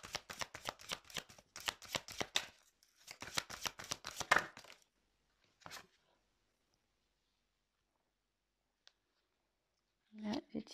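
Tarot cards being shuffled and drawn, crisp papery riffles in two close bursts, then a single soft slap and near silence with a faint tap and brief rustle at the end.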